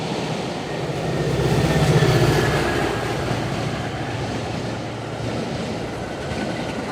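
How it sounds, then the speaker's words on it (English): A Chicago Metra commuter train rumbles past nearby in the western suburbs, its steady roar swelling and fading, with faint rhythmic wheel clatter over the tracks. "But in the meantime, there's one more train."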